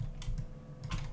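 Brief, quiet keystrokes on a computer keyboard, two or three soft clicks while values are typed into design software.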